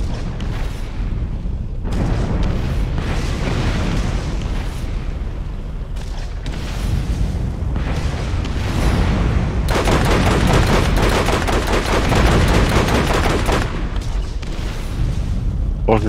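A rocket launcher fires repeatedly in Borderlands, loud booming blasts and explosions mixed with rapid gunfire over sustained battle noise.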